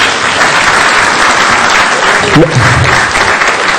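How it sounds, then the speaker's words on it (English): Steady, loud applause from an audience at a city council budget hearing, dense clapping throughout with a brief voice breaking through near the end. "Give yourselves a round of applause."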